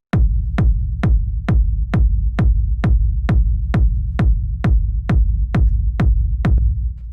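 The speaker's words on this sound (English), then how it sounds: "The first sound we have here is the kick" A deep, booming two-layer acid techno rumble kick drum with a long rumbling low tail, hitting steadily on every beat about sixteen times, loud and alone.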